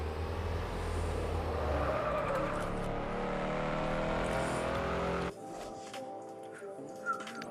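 A car driven in the mobile game Mad Out 2, engine roaring steadily with tire squeal and skidding, then cutting abruptly to a quieter in-game scene with faint effects and a small knock near the end.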